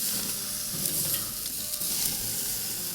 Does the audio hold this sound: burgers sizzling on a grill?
yes